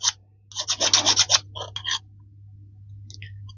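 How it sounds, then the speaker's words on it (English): A metal file scrapes across freshly drilled holes in a butane culinary torch, a burst of quick close rasping strokes, then a pause and a few faint scratches over a low steady hum. "You can always take your file and just file it"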